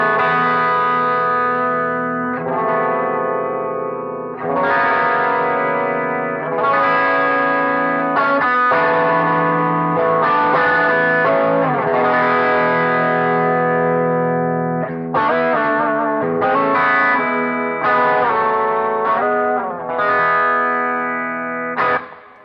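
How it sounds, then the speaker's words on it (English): Electric guitar overdrive through an Analog Man King of Tone pedal, a mid-focused, Bluesbreaker-style tone. Loud, sustained chords and phrases ring out alone, with a short pause before each new strum. "In regard to overdrive, the main pedal is undoubtedly the Analog Man King of Tone."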